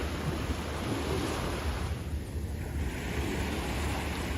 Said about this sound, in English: I love hearing the sound of the ocean.